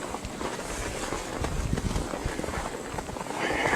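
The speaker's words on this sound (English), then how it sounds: "crunching of the snow and ice and my footsteps here." Footsteps crunching on snow and ice in a cold valley, a quick run of close, rough crunches heard over muffled outdoor noise.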